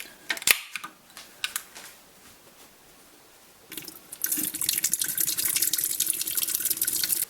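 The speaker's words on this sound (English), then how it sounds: "So I'm using a Yingling, and I'm just going to pour that right in the bottom." Yuengling beer poured into the bottom of a pressure cooker pot, a steady splashing, fizzing wash of liquid that starts about halfway through and runs continuously to the end, preceded by a few sharp clicks and clatters.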